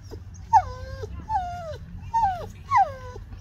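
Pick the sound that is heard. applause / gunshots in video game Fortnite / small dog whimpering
small dog whimpering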